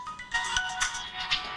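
A mobile phone rings in a hotel room in Kuala Lumpur, its bright electronic ringtone pulsing in a steady repeating pattern, close and clear with no talk over it.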